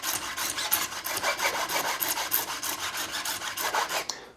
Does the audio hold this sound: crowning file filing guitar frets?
yes